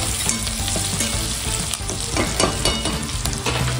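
Chicken chilli frying and being stirred in a pan, a dense, steady sizzle with scraping stir strokes running throughout, close and loud with no talk.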